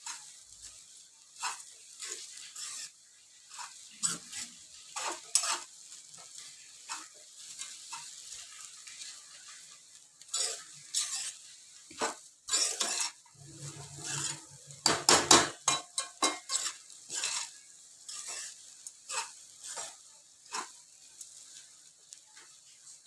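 Puffed rice ugrani is stirred in a pan on the stove, a spoon scraping and clinking against the metal in irregular bursts over a soft continuous sizzle, close and fairly loud, with no talking.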